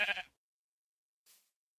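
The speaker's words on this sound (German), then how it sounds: "Oh, guck mal, da sind Schafe." A single short sheep bleat from the Minecraft video game sounds clearly and closely, followed by a faint brief rustle after a pause.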